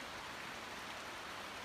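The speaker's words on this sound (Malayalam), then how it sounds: "ഇവിടെ മുടിഞ്ഞ മഴയാണ്" Heavy rain pours down in a steady, dense hiss that stays even for the whole stretch, with no voices or other sounds over it.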